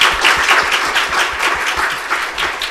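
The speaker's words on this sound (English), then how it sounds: "Please give him a big applause." An audience at a sustainable-investing business forum applauds steadily, many hands clapping at once in a dense, even wash that holds for a few seconds.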